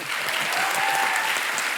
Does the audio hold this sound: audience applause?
yes